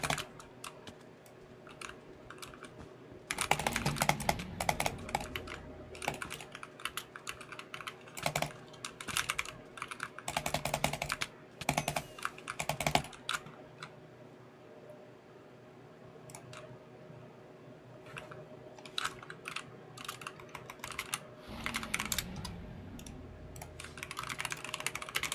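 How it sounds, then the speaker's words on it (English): Someone types a Discord direct message on a computer keyboard: close, loud bursts of rapid clacking keystrokes separated by short pauses, with no speech. "Yeah, I was typing. I was responding to a Discord DM."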